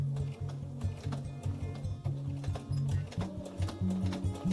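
A sewing machine runs in steady bursts while stitching a fabric face mask, its quick, even mechanical chatter starting and stopping at a moderate level, with no talking.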